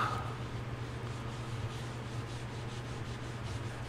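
Wood being sanded on a lathe with 220 grit sandpaper: a steady, continuous rubbing hiss over a constant low motor hum, even in loudness throughout and heard alone.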